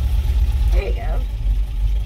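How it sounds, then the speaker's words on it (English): A vintage Ford car's engine runs with a loud, steady low rumble close by, continuing throughout while a person talks over it. "I guess I'm going to have to yell because the car's so loud."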